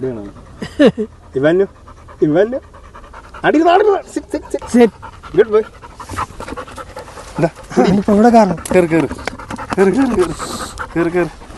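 A dog pants rapidly and heavily up close, with short breathy bursts and a few whimpers, while people talk over it.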